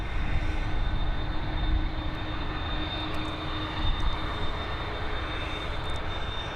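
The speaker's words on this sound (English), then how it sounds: "Heading over to Lisbon, this Boeing 737." Boeing 737 airliner at Dublin Airport heading to Lisbon, a sustained broadband engine roar with a thin high whine, fairly loud and steady, without voices.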